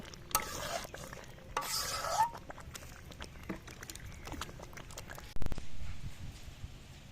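Gorai fish and potato curry being stirred in a pan just after broth is poured in, with scraping spoon strokes, soft sizzling and intermittent clinks, close and fairly quiet, no talking.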